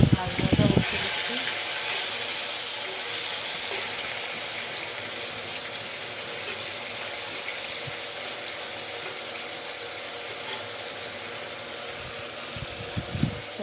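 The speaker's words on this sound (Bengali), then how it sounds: "মাছ ভাজাটা বসিয়ে দিচ্ছি।" Fish frying in a hot wok gives off a steady, broad hiss and sizzle that carries on throughout after a brief clatter at the start, with no one talking.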